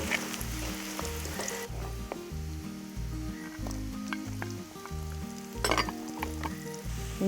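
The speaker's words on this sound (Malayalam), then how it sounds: "ഇഞ്ചി ഒന്ന് വഴന്ന് വരുമ്പോൾ വെളുത്തുള്ളി ഇടാം" Garlic added to ginger frying in oil for beef pickle gives a continuous close hiss and crackle, with a few stirring scrapes and a brief louder burst of spattering, over a quiet rhythmic musical backing and no talk.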